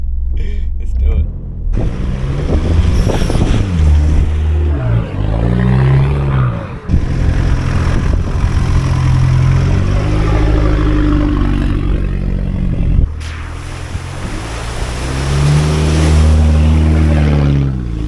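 A 4WD engine revs hard while driving through soft sand, a loud sustained rumble rising and falling with throttle, with a person talking over it at times.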